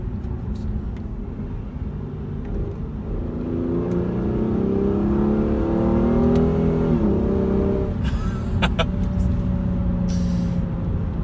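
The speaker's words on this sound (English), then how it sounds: "And you put it in sport. An immediate throttle response." A 2015 Hyundai Genesis Coupe 3.8 V6 in sport mode accelerating hard, the engine note climbing and droning loudly up through the revs before an upshift, heard from inside the car.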